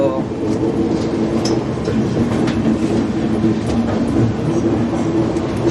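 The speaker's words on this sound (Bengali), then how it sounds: "এবার আমাদের মাটিগাড়ার ভিতর দিয়ে যাচ্ছে ট্রেন" Train no. 13150 from Siliguri Junction to Sealdah rumbles steadily along the rails through Matigara, with a continuous low roar and faint rhythmic clatter throughout, recorded from inside the carriage.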